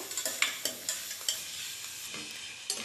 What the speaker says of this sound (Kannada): ಬಾಣಲೆ ಬಿಸಿ ಆಗಿದ ತಕ್ಷಣ ಹಚ್ಕೊಂಡಿರೋಂತಹ ಪಡೋಲ್ಕಾಯಿನ ಹಾಕ್ಕೊಂಡು ಹುರ್ಕೊತಾ ಇದ್ದೀನಿ